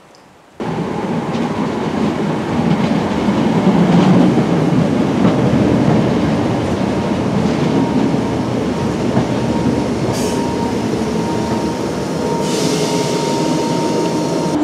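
Interior of a passenger train running near Leeds, a steady loud rumble of wheels on rail and carriage noise throughout, with brief squeals and clatter partway through.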